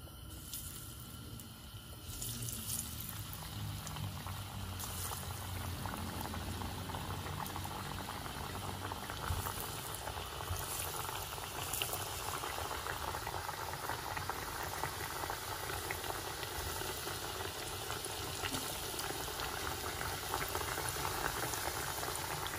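Sylheti nuner pitha frying in oil make a steady, soft bubbling sizzle that runs continuously and evenly without pauses, heard fairly close but at low volume.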